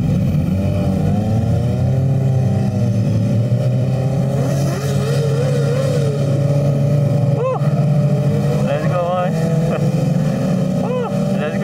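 Kawasaki Modenas motorcycles in a 200-plus bike group ride at Sepang circuit, Malaysia, a steady loud engine drone with shifting pitch and passing revs throughout, with occasional voices over the rumble.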